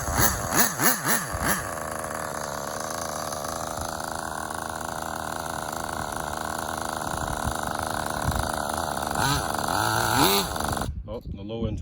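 A small nitro RC engine idles and revs steadily for around ten seconds, with a rich low end that makes it bog when throttle is applied. A sharp rise in pitch comes near the end before it cuts out abruptly. People speak over the engine.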